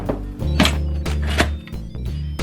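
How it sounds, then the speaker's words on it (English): A pressure cooker lid is set on the pot and turned to lock, giving a few hollow metallic thunks and clicks close up, with no talking. "Get your lid, put it on, make sure it's on sealing, manual."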